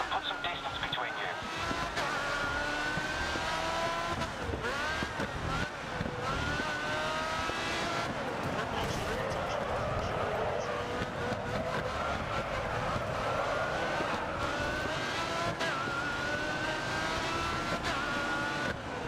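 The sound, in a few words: hypercar engines racing in a video game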